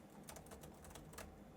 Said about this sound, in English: Let's get a feel for this keyboard.